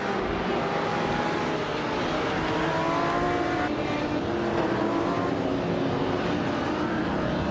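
Several race cars in a racing video game, including a classic 1963 Ferrari 250 LM, launching off the start line; a loud, dense roar of overlapping engines climbing in pitch, continuous and close, with no talking.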